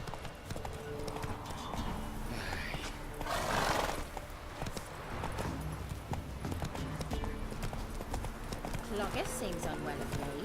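Horse hooves clip-clop at a steady gallop in The Witcher 3 video game, close and continuous, with a whinny partway through and game music and voices mixed underneath.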